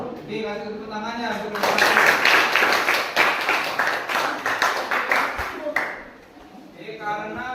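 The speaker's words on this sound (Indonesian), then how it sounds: "kasih tepuk tangannya" Students in a classroom give a burst of clapping that swells, holds for several seconds and fades, with voices around it.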